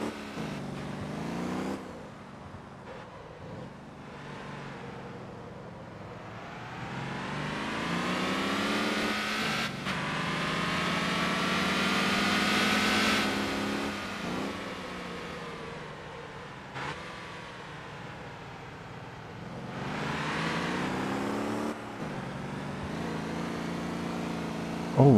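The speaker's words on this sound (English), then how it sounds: "Oh, we're even in third gear, we're doing a little burnout." A car in the video game Motor Town does a burnout in third gear, its engine revving and straining in long rising and falling waves, loud and close, with no one talking.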